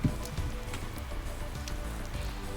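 Steady rain pattering in the Doom game, a constant soft hiss of falling drops with faint patter, fairly quiet and alone without speech.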